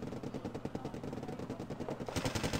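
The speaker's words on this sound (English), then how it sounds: "looks like the Vizikar is just going to get overwhelmed by all the machine guns" Rapid, sustained machine gun fire in a combat video game, a dense rattle of bursts that swells louder near the end, with no voices.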